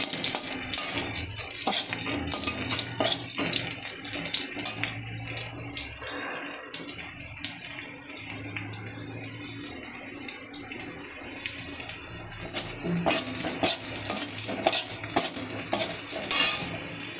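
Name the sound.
onion frying with panch phoron in oil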